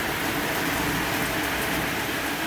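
Heavy rain from a severe thunderstorm with strong winds in Kentucky pours down in a loud, dense, steady roar, constant throughout with no talk.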